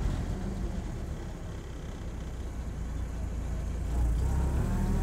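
A 77-year-old Willys jeep creeps forward in gear with the throttle off, its engine giving a steady low idling rumble that swells slightly near the end, close and continuous with no talking.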